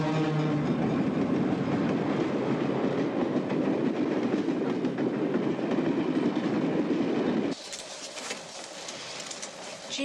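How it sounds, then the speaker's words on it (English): Inside a moving night train, a loud, steady rumble carries a rhythmic clickety-clack of the wheels, then drops suddenly to a quieter, hissier interior sound near the end. "I always wanted to sleep on a train"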